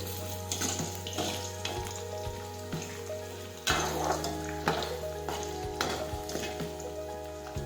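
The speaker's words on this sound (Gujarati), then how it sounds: "હવે આપણે સાતળી દઈશું." Close, steady sizzle of oil in a pan sautéing for an okra and potato curry, with soft clinks and a louder surge partway through.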